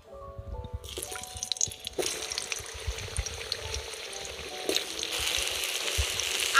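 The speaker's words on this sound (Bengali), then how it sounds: "এবার আমি আলুগুলো ভেজে নেব।" Potatoes drop into hot oil and start to fry, a rising crackle and sizzle with small clatters and stirring at the start, close and fairly quiet.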